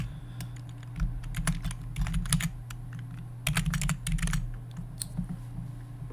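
Typing on a computer keyboard, close key clicks in two busy bursts separated by a short pause, over a steady low electrical hum.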